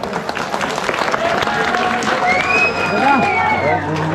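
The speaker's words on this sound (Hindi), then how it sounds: "जोरदार तालियां बजा दो एक बार।" Audience applause at a stage event in Uttarakhand, a steady crowd clapping with some cheering and background chatter throughout, fairly loud and close.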